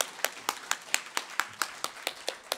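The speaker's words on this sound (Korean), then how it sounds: "예, 박수 부탁합니다." Steady hand clapping from a small audience welcoming an internal medicine specialist on stage for a lung-screening health talk, about a dozen sharp, evenly spaced claps close to the microphone with no voices over them.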